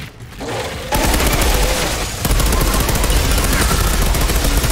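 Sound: submachine gun firing in the video game Outriders

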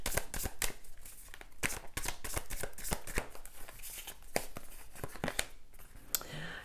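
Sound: laying out tarot cards

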